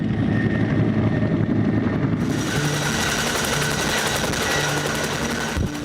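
Helicopter flying near a short runway during wildfire evacuations in Pukatawagan, a loud, steady rotor chop and engine drone that fills the whole span without pause or talk.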